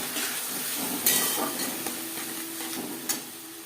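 Tomato, ginger and ripe chili dropped into hot spiced oil for katla fish curry, a steady close sizzle and hiss with a few stirring scrapes and clinks.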